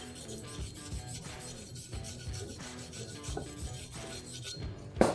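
Polishing a vertical stick weld on metal makes a continuous rasping, rubbing scrape in repeated strokes, moderately loud and close, ending with a brief sharp clunk, with no voices.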